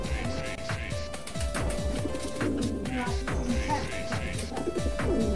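Ornamental Gondok pigeons crossed with Modena, both males, cooing in repeated throaty bursts close by, with steady rustling and occasional sharp knocks in the background.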